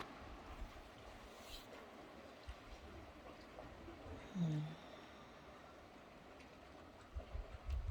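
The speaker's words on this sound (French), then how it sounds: "ce son de la mer qui va et qui vient" Faint sea waves roll in and draw back by the shore, a soft, steady wash with gentle low swells and no talking.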